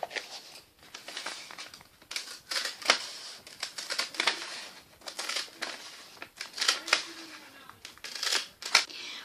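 Scissors snip through wrapping paper for a gift in a steady series of short, crisp cuts, each a dry crunchy slice, close and fairly quiet with no talking.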